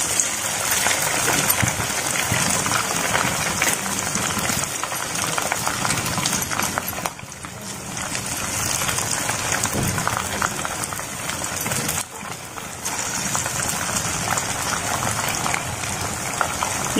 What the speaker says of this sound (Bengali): এবার আমি ছাণিবা।